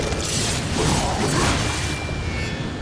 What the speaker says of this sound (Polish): Co to kuźwa wybucha jeszcze?